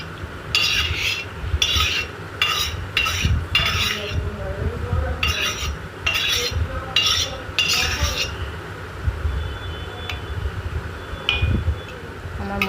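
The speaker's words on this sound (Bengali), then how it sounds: "এরপর আমি মোচাটা একটা পাত্রে ঢেলে নিচ্ছি।" Cooked banana flower curry scraped and poured from a pan into a bowl, with a run of clinking metal spoon-on-pot strikes in bursts over the first eight seconds, then quieter kitchen background with a couple of faint taps.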